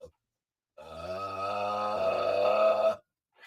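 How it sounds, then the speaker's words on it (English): A single long, deep, rumbling burp lasting around two seconds, loud and close, with silence before and after. "You can hear that burp from a little further away."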